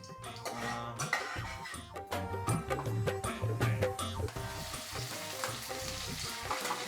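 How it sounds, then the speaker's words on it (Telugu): Cut okra pieces dropped into hot oil and frying, a busy crackling sizzle mixed with rattling clatter and scraping as the pieces are stirred, settling into a steadier fizz toward the end. "బెండకాయ ముక్కలు అయితే వేసింది"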